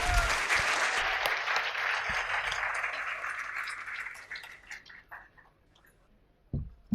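A campus Hindi poetry event audience claps loudly for a poet taking the stage; the dense applause holds strong, then thins and fades out into near silence with a few last claps.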